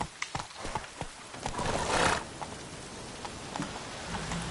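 A horse's hooves pound at a gallop in Witcher 3, sharp close beats that blur into a rush of noise midway, with a neigh-like snort mixed in.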